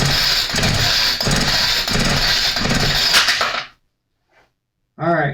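A small engine is pull-started with a recoil starter, giving a few loud, rhythmic cranking pulls with rattling metal over roughly four seconds, then a sudden stop, a brief silence and one more short burst.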